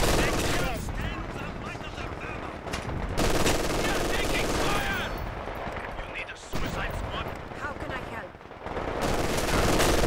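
Vickers machine gun fire in the Company of Heroes 2 video game, dense, sustained rattling bursts with brief pauses between them amid other battle noise, while a person talks over the gunfire.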